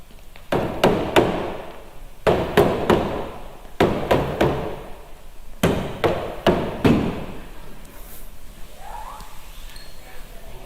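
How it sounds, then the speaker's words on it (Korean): Hammering sound effect for making a golden calf: loud, close metallic strikes in quick clusters of three or four, repeated several times before fading into quieter background. "그렇게 이야기하니 아론이 모든 사람들의 금을 모아서 뚝딱뚝딱 금송아지를 만들게 되었습니다."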